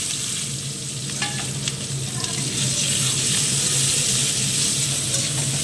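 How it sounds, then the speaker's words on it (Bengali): Onions frying with cumin, dried chilli, cinnamon and cardamom in a pan, giving a dense, steady sizzle with occasional stirring scrapes, close and continuous with no talking. "পেঁয়াজটাকে লাল করে ভেজে আমি এবারে ঢেকে দেব।"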